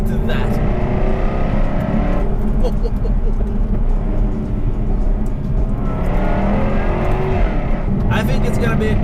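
A Jaguar F-Type R engine in race mode drones loudly from inside the car, holding a steady rumbling tone with rising and falling revs throughout.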